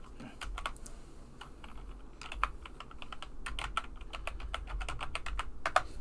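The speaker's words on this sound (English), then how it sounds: "I'm so bad at typing." Someone types an email address on a computer keyboard, with hesitant bursts of clicky keystrokes separated by short pauses, close and fairly quiet over a low background hum.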